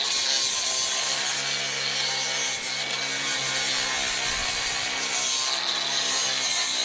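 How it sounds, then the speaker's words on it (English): Hand sanding along the edges of a wooden raised garden bed, a steady close scratchy rubbing of abrasive on wood that runs continuously without pause. "Just roughly sand his edges."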